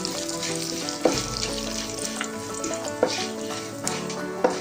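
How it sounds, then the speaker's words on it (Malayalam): Masala frying in oil over a low flame for a Kerala-style rabbit roast, a continuous close sizzle with a few sharp clicks of a spoon against the pan, no voices. "ലോ ഫ്ലെയിമിലിട്ട് മസാല ഫ്രൈ ചെയ്യാവുള്ളൂ."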